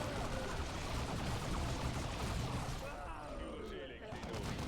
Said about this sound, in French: Qu'est-ce que c'est que cette explosion qui m'a rasé la moitié de mes mecs?